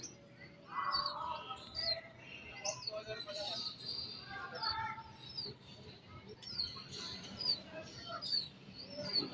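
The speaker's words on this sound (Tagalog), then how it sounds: "Ito mga kaiba nating kalapati." Scattered pigeon calls and soft chirps come and go at low volume over a faint background, with brief murmuring voices mixed in.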